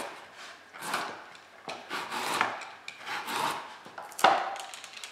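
A julienne tool shredding carrots into strips, heard as repeated rasping scrapes in steady strokes about a second apart, close by and fairly crisp, with no talk.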